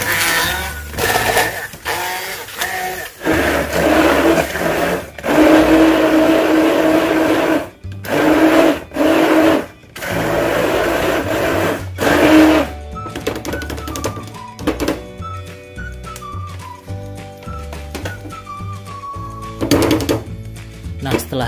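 A kitchen blender grinds a spice paste of seasonings with a little added water for pepes ikan mas, running in loud bursts with brief stops, while a voice talks over it intermittently.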